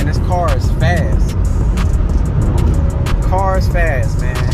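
A Chrysler Crossfire's engine drones loud and steady from inside the cabin as the car accelerates hard, with someone talking over it throughout.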